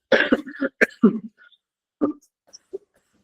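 Several quick, close coughs burst out in a cluster, followed by a pause and a couple of softer single coughs.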